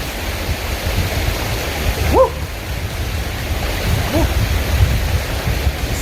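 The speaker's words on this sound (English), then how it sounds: "Look at this beautiful creek." Steady broadband rush of a creek's flowing water along the Appalachian Trail, continuous and moderately loud, with a couple of brief chirp-like calls rising above it.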